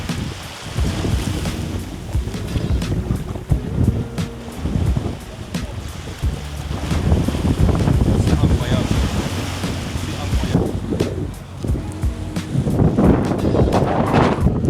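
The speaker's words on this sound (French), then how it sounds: "Il y a vraiment beaucoup de vent." Strong wind buffeting and roaring throughout, mixed with surging water and gusts that swell louder toward the end; no clear speech.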